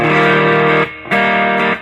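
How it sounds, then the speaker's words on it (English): An electric guitar played through a Fuzz Face fuzz pedal with the distortion rolled back to about halfway rings out in two loud, sustained fuzzy chords with a brief gap between them. "Now if I roll the distortion back to about 12 o'clock, that's where I'm going to get some nice meaty tone."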